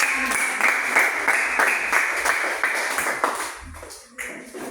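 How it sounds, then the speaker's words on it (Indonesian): A classroom group gives a round of applause for group 3, with brisk, fairly loud clapping from several people that continues for a few seconds, then thins out and tapers off. Nobody speaks. "Berikan aplaus untuk kelompok 3"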